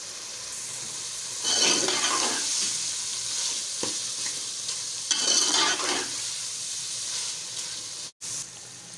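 Chicken liver fries in a pan with a steady sizzle, rising twice into louder bursts of hissing as the pieces are stirred, then a brief dip near the end.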